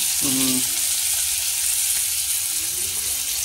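Hilsa fish frying in hot oil gives a steady, loud broadband sizzle throughout, with a brief tonal clatter near the start and again toward the end.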